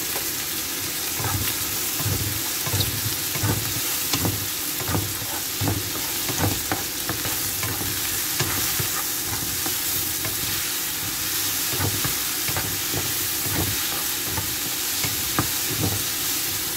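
Ground spice paste sautés in a pan for a tongkol fish dish, a steady close sizzle broken by repeated scraping stir strokes at a regular rhythm throughout, with no talking.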